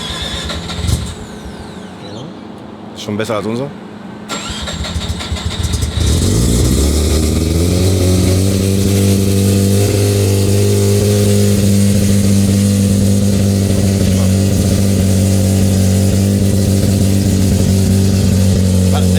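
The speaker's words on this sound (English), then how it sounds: "We're just dynoing a car now" A high-output car of over 1,000 horsepower cranks, fires up and settles into a loud, steady idle on a dyno, with deep sustained engine drone filling the space while people speak briefly over the start.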